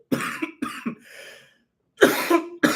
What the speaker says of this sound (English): I had this cough now for like 2 days.